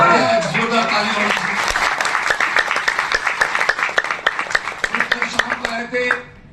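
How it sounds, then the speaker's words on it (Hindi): Loud audience applause at a seminar session, dense clapping from a large crowd that thins into scattered individual claps and fades near the end, with a voice briefly audible under it. "कैसा सेशन रहा? जोरदार ताली।"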